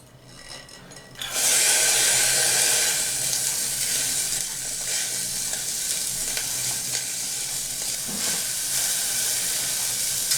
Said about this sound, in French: On met d'abord nos échalotes.